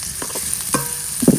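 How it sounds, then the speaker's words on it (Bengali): Chopped onion and green chili sizzling in soybean oil, a close, bright frying hiss with a few scraping stirs of a spatula across the pan, no talking. "পেঁয়াজ আর মরিচ হালকা ভাজা হয়েছে,"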